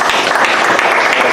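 An audience at a book launch conference in Limoeiro applauds loudly, a dense, steady wash of many hands clapping close by with no voices.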